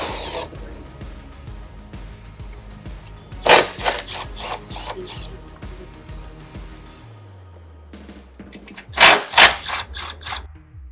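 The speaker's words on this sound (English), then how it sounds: "I'll use a 10mm socket. I like this little 1/4" gun because it's easy to get into these tight spots." A quarter-inch impact gun with a 10mm socket backs fasteners out of a plastic skid plate on a 5th Gen 4Runner, giving two loud, close bursts of rapid hammering with a quieter tool-and-trim clatter between them.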